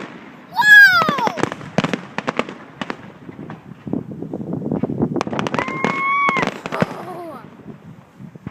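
Sharp fireworks bangs and crackling bursts at a fireworks display in Dayton, Indiana, heard in uneven clusters, with nearby voices, including a child, shouting and cheering between the blasts.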